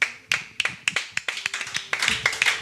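A church congregation claps in praise as the pastor comes forward, a run of sharp, fairly close hand claps that grows denser and more continuous toward the end, with no talking over it.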